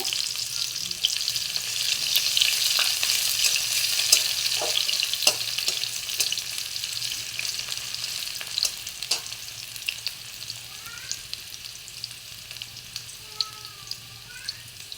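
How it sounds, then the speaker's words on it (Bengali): Onions dropped into hot oil sizzle steadily in a pan, a dense close frying hiss with occasional stirring clicks that eases slightly toward the end. "তেলটা গরম হয়ে গেছে, এবার আমি কিছুটা পেঁয়াজ দিয়ে দেব।"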